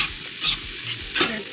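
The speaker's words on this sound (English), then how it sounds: "And you see I just stir it." Onion and ginger frying in a pot while being stirred, a steady close sizzle broken by a few louder scraping strokes of the spoon against the pot.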